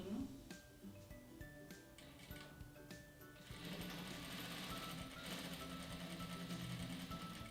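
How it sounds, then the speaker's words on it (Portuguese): A sewing machine stitches a seam across fabric pieces placed right side to right side, running in a steady mechanical buzz after some lighter handling clicks at the start. "vou passar uma costurinha na parte de cima"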